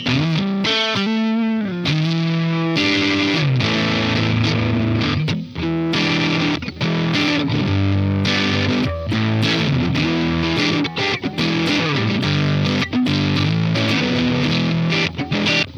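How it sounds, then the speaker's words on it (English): Heavily fuzzed electric guitar through a Donner Arena 2000 multi-effects unit chugs and rings out loud chords and riffs, thick and saturated, played continuously with short choppy breaks between phrases. "We got some fuzz going on."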